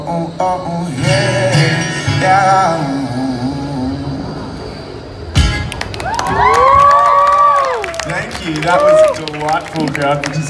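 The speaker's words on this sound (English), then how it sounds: "full crowd participation" A street musician's crowd sings and cheers along in an outdoor setting, loud voices rising together in chanting bursts that break off and restart, with whoops and melodic shouting carrying over steady background noise.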